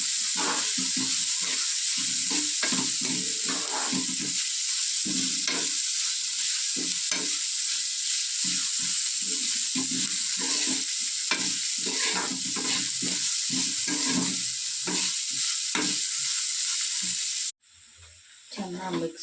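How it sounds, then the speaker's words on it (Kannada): Onion, curry leaves, chilli and grated ginger and garlic sizzle steadily in a pan, a dense continuous frying hiss broken by frequent scraping stirs, loud and close before cutting off near the end. "ಆನಿಯನ್ ಮತ್ತು ಕರಿಬೇವಿನ ಸೊಪ್ಪು, ಚಿಲ್ಲಿ, ಶುಂಠಿ, ಬೆಳ್ಳುಳ್ಳಿ ಗ್ರೇಟೆಡ್ ಮಾಡ್ಕೊಂಡಿರೋನ್ನ ಹಾಕ್ಕೊಂಡು ಗೋಲ್ಡನ್ ಫ್ರೈ ಬರೋ ತನಕ ಫ್ರೈ"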